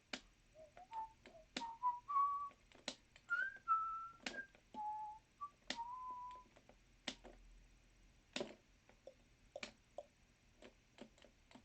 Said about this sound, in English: On a scale of 1 to 10, how's my whistling?